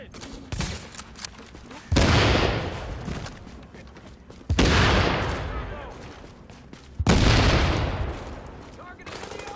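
Gunfire in Tom Clancy's The Division: three loud bursts of heavy shooting, each starting sharply and trailing off over a couple of seconds, with shouted voices between them.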